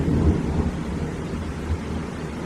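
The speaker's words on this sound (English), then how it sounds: "This storm is blowing my mind." A thunderstorm with low rumbling thunder rolls on steadily, loud and close, with a wash of rain-like noise throughout and no talking.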